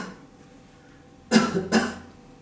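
Two loud coughs from a patient during a respiratory physical examination, following each other closely after a quiet stretch, heard alone and up close.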